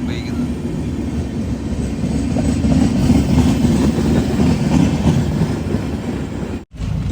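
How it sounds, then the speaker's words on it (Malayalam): An approaching train hauled by an electric locomotive on a diesel-worked route in a cold yard area near a station, heard as a steady loud rumble that swells over several seconds and stays broad and heavy, with a brief dropout near the end. "ഒരു വണ്ടി വരുന്നുണ്ട്, ഇലക്ട്രിക് ആണ് ലോക്കോമോട്ടീവ് വരുന്നത്."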